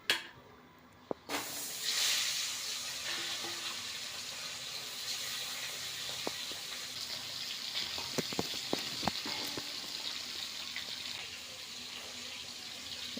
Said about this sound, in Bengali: এবার কড়াইতে মাছের মাথাটা ভেজে নেব